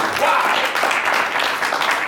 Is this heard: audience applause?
yes